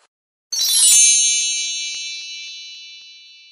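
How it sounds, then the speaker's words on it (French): A single bright bell strikes once, close and clear, then rings on in a long, slowly fading metallic tone with no voices. "vous avez certainement entendu la cloche sonner"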